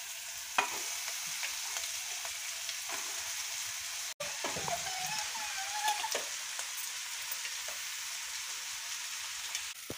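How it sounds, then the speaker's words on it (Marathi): Poha with roasted peanuts stir-fried in a pan, giving a steady soft sizzle with light scraping and stirring strokes throughout, close and moderately quiet, no voices. "तर हे बघा आपले पोहे असे छानपैकी परतून झालेले आहेत।"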